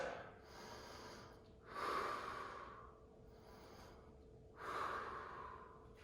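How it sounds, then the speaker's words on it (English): After a full-body interval workout, a person takes two slow, deep breaths, each a rising inhale and long exhale, close and soft against a quiet room. "You're gonna take 3 deep breaths."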